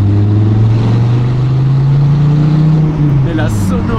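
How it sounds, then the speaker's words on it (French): A deep, loud Dodge Viper ACR engine rumbles steadily nearby, its pitch rising slightly as it revs, then easing off near the end. "On sent juste via le son qu'il y a un énorme moteur sous le capot."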